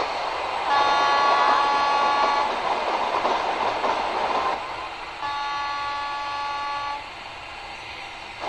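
A commuter train in a train simulator video game, running on a Mumbai city route toward Dombivli, brakes to a stop with steady rumbling wheel and rail noise under sustained horn-like tones, gradually settling.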